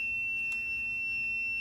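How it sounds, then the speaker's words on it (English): A multimeter continuity tester holds a steady electronic tone, a continuous high-pitched beep at moderate level in a quiet room. "I have a completed circuit. I get the beep."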